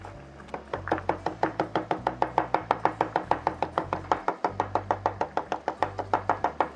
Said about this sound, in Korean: 파슬리는 줄기를 제거하고 잎만 곱게 다져주세요.